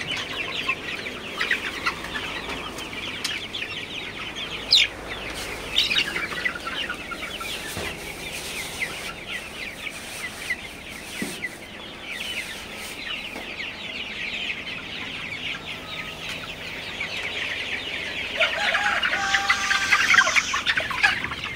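Sonali chickens crowded together in a hot poultry shed, a dense continuous chorus of clucking and chattering hens with occasional louder calls, steady throughout and swelling slightly near the end.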